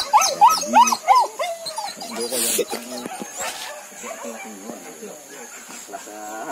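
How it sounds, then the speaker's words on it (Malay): Hunting dogs on a wild boar hunt bark in short yips and whimper in high, wavering whines at close range, several animals overlapping while people talk nearby. "Ini anjing lah."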